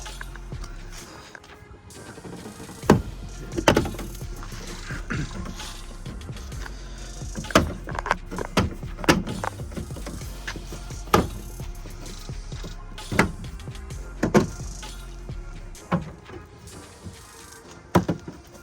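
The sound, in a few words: plastic clips of rear diffuser being pulled off BMW M140i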